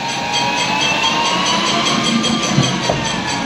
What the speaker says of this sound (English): that sound you hear is the brakes